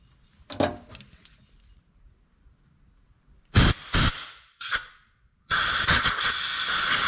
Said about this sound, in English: So we're running a little bit more WD-40 on it.